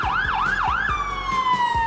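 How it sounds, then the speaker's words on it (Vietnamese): An airport fire crash tender's siren wails in fast repeated rising-and-falling sweeps, then shifts into a steady, slowly descending tone, loud and close with road traffic rumbling underneath. "Airport crash tender."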